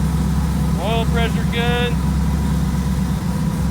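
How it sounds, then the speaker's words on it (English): A car engine idles smoothly and steadily after a tune fix, a constant low hum running throughout while a person talks briefly over it. "Oh, it's idling smooth now."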